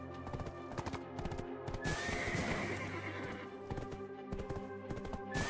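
A horse in the video game Black Desert neighs loudly in a long whinny, while rhythmic clip-clop hoofbeats sound before and after it at close range.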